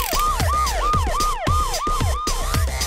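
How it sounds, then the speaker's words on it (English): Ambulance siren wailing in fast, repeated rising and falling sweeps, loud and close, over a rhythmic musical beat. "Ambulance."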